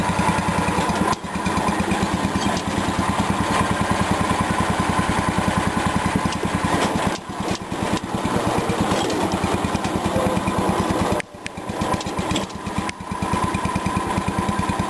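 A John Deere riding mower engine runs steadily and loudly while being shifted through its variator drive, its throbbing drone holding constant with a few brief dips in load.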